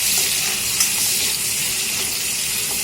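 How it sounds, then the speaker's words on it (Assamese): Chopped onions dropped into hot oil for an Assamese mutton curry, a loud, dense, continuous sizzle with faint stirring underneath and no voices. "কাটি লোৱা পিঁয়াজখিনি দিম। এয়া কাটি লোৱা পিঁয়াজখিনি দিলোঁ।"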